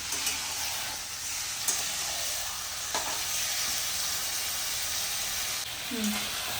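Chicken handi sizzles and hisses steadily in a pan as it is sautéed, with occasional scrapes of stirring over the continuous frying noise.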